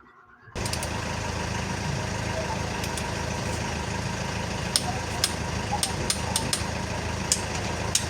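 Sharp clicks from a torque wrench tightening a main bearing bolt on a Cummins 2.8 engine in a Foton Tornado, heard as several crisp snaps over a steady, loud engine-like hum in the workshop.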